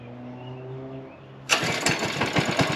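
A Coleman SK100 go-kart engine, choke set, is pull-started: after a faint hum, it abruptly catches and settles into a loud, close, rattling idle with uneven pulses.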